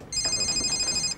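A new phone's ringtone chimes once in a bright, steady electronic ring lasting about a second, close by, over quiet room background.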